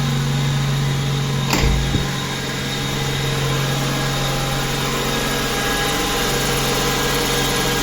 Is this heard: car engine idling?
yes